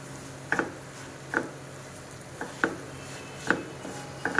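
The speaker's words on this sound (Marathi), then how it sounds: "छानपैकी सतत हलवत आपल्याला हा रवा भाजून घ्यायचा आहे।" Semolina being stirred and roasted in a pan for mango sheera: a spoon scrapes and taps against the pan in regular strokes about once a second, close and clear over a faint background hiss.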